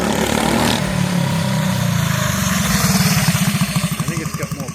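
A small mini bike engine fitted with a new carburetor revs close by, a buzzing, pulsing motor note that climbs and chugs rhythmically toward the end.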